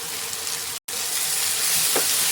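Cumin powder and spices sauté in a pan for a jackfruit, green tomato and poppy seed dish, giving a close, steady frying sizzle with a faint stirring scrape and one brief cut in the sound.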